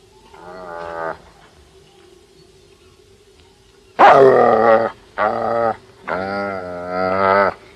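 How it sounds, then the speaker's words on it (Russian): A dog gives a short low bark, then after a pause several loud, drawn-out howling barks in quick succession, close by. "Собака у вас хорошая, Наташа."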